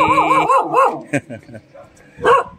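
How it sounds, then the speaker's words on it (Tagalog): An agitated dog on a rooftop barks and yips angrily at a stranger, sharp bursts mixed with whiny, rising-falling yelps, up close, with people talking over it. "Ayun, galit na. Hindi ako kilala ng aso."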